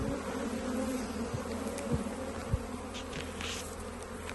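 Honey bees buzz in a dense, continuous hum while a hive is set up on a farm in Portugal, close and steady, with a few faint knocks of handling underneath.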